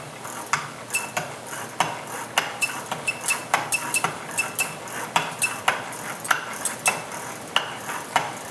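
A hand-turned homemade gearbox clicks and ratchets in a steady series of sharp mechanical ticks, with gear teeth clattering at an irregular pace and close by, with no voices.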